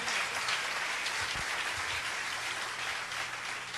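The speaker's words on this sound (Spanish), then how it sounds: "Denle un aplauso al Señor." A church congregation applauds for the Lord during a prophetic sermon, a continuous, dense wash of clapping from many people that stays strong and even throughout.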